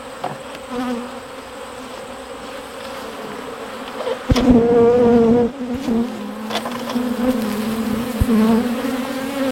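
Honeybees buzz steadily around a beehive, a dense continuous drone with individual bees swelling louder as they pass close to the microphone.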